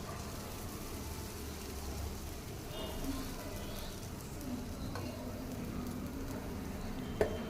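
Ghee kharam dosa frying on a hot pan, a steady soft sizzle running throughout at moderate level, with a few light clinks and scrapes and one sharp tap near the end.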